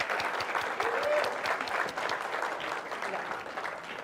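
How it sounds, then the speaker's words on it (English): A round of applause rises from a demo day audience, many hands clapping in a dense, even patter that stays fairly loud and then eases a little toward the end. "Give them all a round of applause."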